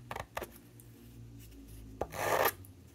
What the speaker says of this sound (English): Let me sand that.